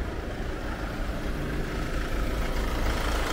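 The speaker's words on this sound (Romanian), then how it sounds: "o ascultăm puțin cu motorul pornit" A steady, low diesel idle from a 2011 Mercedes C200 W204 2.2 CDI with the engine cover removed rumbles continuously with an even, unchanging chug, close and moderately loud, with no voices.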